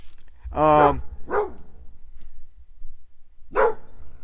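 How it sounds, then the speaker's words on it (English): A dog named as barking indoors during a live stream gives a loud near bark followed by two shorter yips or barks spaced apart, with low background noise between. "No, Xander, stop barking."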